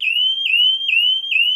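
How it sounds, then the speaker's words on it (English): A dock electrical safety alarm installed after water seeped into a dock light switch sounds a loud, shrill electronic tone, repeating in steady sweeping pulses about every half second, clear and alone. "Their dock, now equipped with an alarm"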